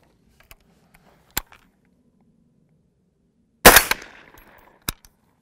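Gunshots at an outdoor shooting range while a LabRadar chronograph measures velocity: a couple of sharp isolated cracks, then one loud blast with a short decaying tail, and a final crack, separated by quiet gaps.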